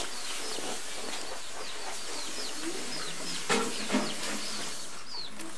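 Chickens cluck softly and intermittently outdoors, with a couple of slightly louder calls near the end against a quiet background.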